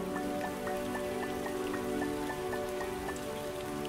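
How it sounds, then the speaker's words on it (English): Rain falling in the Starbound video game, a steady even patter of drops on a surface that fills the whole stretch without any talk. "Oh god, it's raining."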